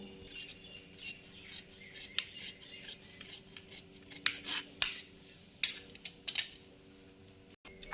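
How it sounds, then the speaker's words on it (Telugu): Scissors snip through blouse fabric in a series of short, crisp cuts with small pauses between them, close and fairly quiet, with no talking. "ఇప్పుడైతే ఇది కటింగ్ కటింగ్ చేసుకుందాం మనం"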